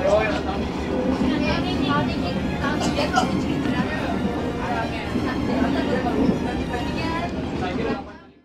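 Inside the Sritanjung economy train at Kalisat station as the Probowangi from Ketapang to Surabaya passes, a steady low rumble and rattle of rolling carriages fills the cabin, with murmuring passenger voices underneath.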